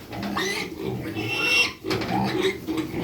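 Pigs grunting and oinking close by in a steady stream of snorts and squeals, with a brief pause midway.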